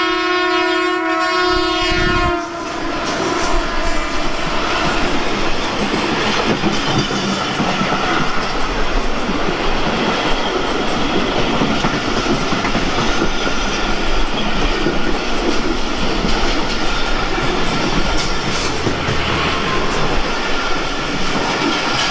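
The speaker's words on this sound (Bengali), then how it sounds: "ও তো এই ট্রেনের জন্যই আমরা সিগনালে দাঁড়াইছিলাম" A train passing on a railway in Pakistan opens with a long loud horn blast, then a dense roaring rush of wagons and rattling wheels continues close by for the rest of the clip.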